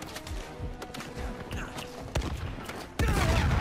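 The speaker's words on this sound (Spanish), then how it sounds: "Venga, otro disparo." Sharp gunshots from the video game Uncharted 4 ring out, several spaced shots with a louder blast near the end, over a busy background of game sounds.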